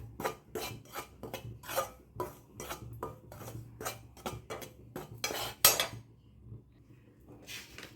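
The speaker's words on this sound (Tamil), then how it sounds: "கடாயில் தட்டிட்டு பச்சை வாசனை போகும் தட்டி நம்ம வதக்கிக்கலாம்" Sifted millet flour being dry-roasted and stirred in a kadai for a millet laddu, heard as a run of repeated metallic spoon scrapes and clinks against the pan, fairly close and alone, with a short pause near the end.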